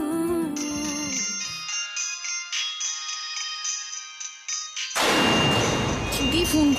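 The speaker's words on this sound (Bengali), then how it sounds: "দিদি ফোন করছে কেন আবার?" A phone ringtone plays a bright, repeating electronic melody for several seconds, then gives way to a loud, noisy burst of sound.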